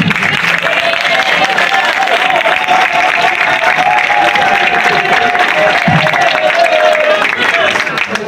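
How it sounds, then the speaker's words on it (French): A large crowd at a theatre artists' gathering honoring a government minister at a museum gives loud, continuous applause with cheering, a dense wall of clapping throughout, and voices rising within it. "Applaudissez."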